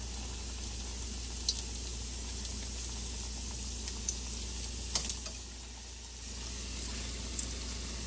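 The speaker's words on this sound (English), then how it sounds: "You just want to fry them maybe about a minute on each side. Our oil is pretty hot." A dessert frying in very hot oil, a soft steady sizzle with a few faint ticks and pops, quiet and close, dipping briefly before resuming.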